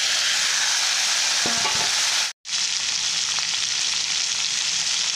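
Pork pieces fry with browned onions in an oiled pan. The strong, continuous sizzle is close by, and a few brief stirring scrapes and clinks sound near the middle.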